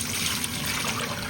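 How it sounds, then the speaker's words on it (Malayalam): Water is poured from a cup into rice in a pot for mutton biryani, a steady close trickling stream, moderately loud and continuous throughout. "ഇതിലേക്ക് നമുക്ക് വെള്ളം ചേർത്ത് കൊടുക്കാം"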